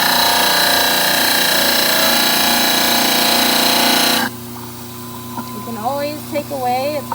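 A dental model trimmer grinds loudly against a model, a harsh steady whirring that cuts off abruptly partway through, leaving only a low motor hum under a voice.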